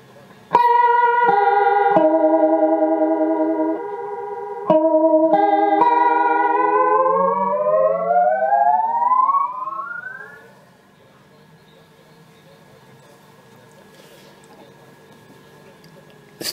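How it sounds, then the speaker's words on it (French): A Boss ME-10 multi-effects unit plays guitar notes through its stereo chorus, shimmering sustained tones that change pitch in steps, then a long rising bend before the sound fades to near silence. "on va passer au chorus stéréo."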